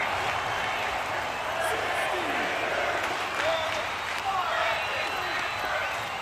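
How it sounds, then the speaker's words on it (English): A crowd at a wrestling match roars and chants as a dense continuous wash of voices, with a commentator talking over it throughout. "I'm not sure what the crowd are chanting."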